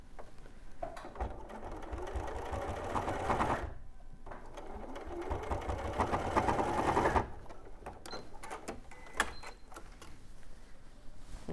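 A domestic sewing machine stitches a fabric toy rabbit from the neck edge down, running in two long continuous bursts separated by a short pause. Afterwards come quieter, scattered clicks and handling noises.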